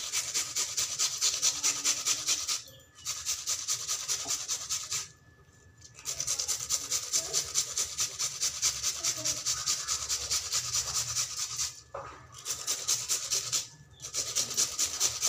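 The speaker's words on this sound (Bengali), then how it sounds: "দুটো পেঁয়াজ আমি এভাবে করে গ্রেটারের সাহায্যে ঘষে দিয়ে দিব।" Onions rubbed back and forth on a kitchen grater, a steady close rasping scrape in long repeated strokes with a few brief pauses, no talk.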